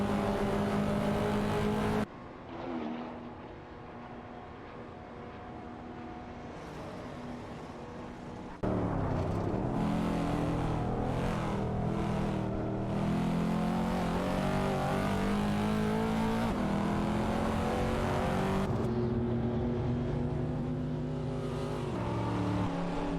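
Engines of AI-driven race cars in a racing video game drone loudly as they overtake, with a pitch that climbs and shifts through sustained revving and sudden cuts between segments, and no talking.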